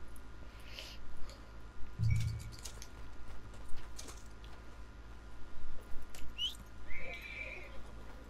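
A horse neighs once in the video game Red Dead Redemption 2, a short low whinny near the start, followed by faint clip-clops, small clicks and scattered high game effects over a quiet background.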